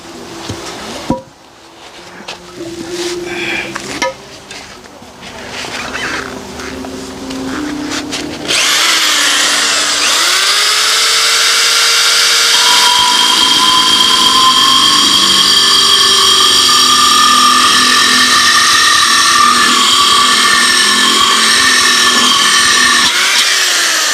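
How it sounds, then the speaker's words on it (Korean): A handheld power drill boring a hole through a planter pot used for houseleeks, a few short bursts followed by a long, loud, steady whine that holds at close range, with no voices. "구멍을 뚫는 공구가 있는데 공구를 이용해서 뚫어 보도록 하겠습니다"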